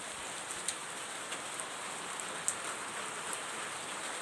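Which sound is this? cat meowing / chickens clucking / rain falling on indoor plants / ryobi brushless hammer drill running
rain falling on indoor plants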